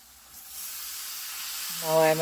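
Onion, ginger and garlic sauté in a pan for a Kerala banana-leaf fish dish, giving a steady close hiss and sizzle that swells toward the end as a brief tone rises over it.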